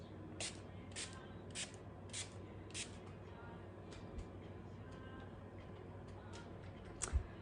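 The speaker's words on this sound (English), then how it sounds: "So I'm gonna take our Time Locker setting spray" Time Locker makeup setting spray misted onto a face in several short, evenly spaced hissing bursts, close and fairly soft, with a faint steady background hum between them.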